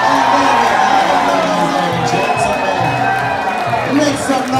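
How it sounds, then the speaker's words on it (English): Crowd at a lumberjack show in Ketchikan cheers and whoops loudly and continuously, a dense roar of many voices with shouts rising over it. "Cheer your athletes on and boo your opponent."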